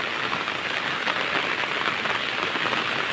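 Rain falls on a village in an even, dense patter of countless drops on surfaces, a steady close hiss with no pauses and no voices.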